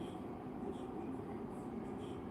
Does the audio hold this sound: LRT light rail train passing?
yes